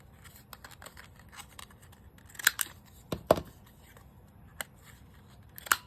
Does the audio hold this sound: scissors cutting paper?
yes